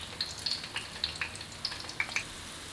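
Herbs and aromatics frying in oil in a wok give a soft, steady sizzle with scattered small pops and crackles, fairly quiet and alone.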